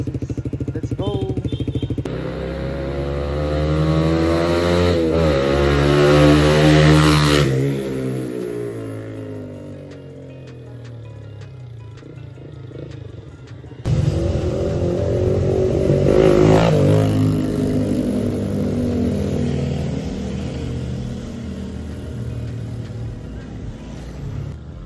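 A Suzuki GSX-R150 with a Villain carbon-series full-system exhaust on a test ride, the engine revving up and down loudly through the gears, dropping to idle midway before pulling away again, with voices heard over it.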